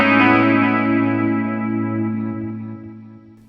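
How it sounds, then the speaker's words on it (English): Stereo delay effect on a Zoom MultiStomp MS-70CDR pedal: a sustained, chorus-tinged guitar chord that repeats in echoes and slowly fades away, with no voice over it. "So let's switch off the hall and go to the stereo delay"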